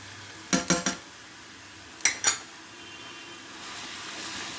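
A spoon stirs a ginger, cumin and coriander paste into a peanut, onion and garlic mixture for nut chicken curry: three quick, close metallic scrapes against the pot, a pause, then two more over a low background sizzle.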